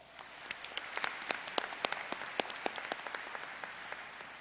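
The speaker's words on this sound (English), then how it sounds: "Please give him a round of applause." Scattered applause at a college commencement ceremony for the graduating class's student speaker, individual claps standing out sharply over a soft, steady bed of clapping.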